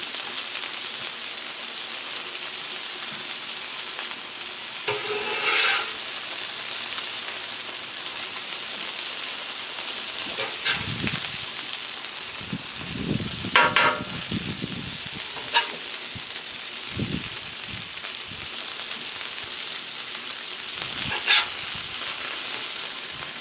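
Smash burgers topped with Colby Jack cheese sizzle steadily on a Blackstone griddle, a continuous close frying hiss broken by a few brief clunks and scrapes, with no talking.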